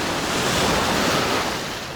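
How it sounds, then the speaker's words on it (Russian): Ocean surf and gusting wind on a Dubai beach, a steady broadband roar of breaking waves mixed with wind buffeting the microphone, loud and continuous with no voices. "сегодня ветер и волны, но это нам не помешает"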